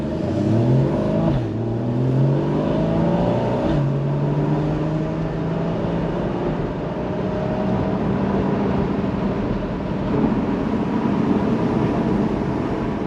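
Porsche Boxster flat-six engine pulling along a twisty, damp road, its rising and falling engine note sweeping up and down through gear changes, heard from inside the car with no talking.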